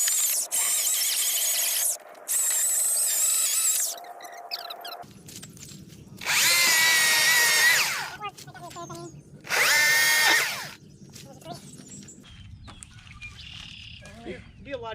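An Atlas 80V battery chainsaw cutting storm-damaged wood whines high-pitched in several loud bursts of a second or two, separated by quieter stretches with faint chirps and background hum.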